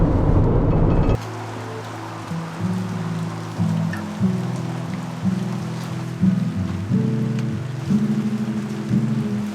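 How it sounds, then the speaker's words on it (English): Rain falls on a car driving along the west coast of New Zealand: a steady wash of hiss over a droning, shifting engine and road rumble, with no voices. "Rain."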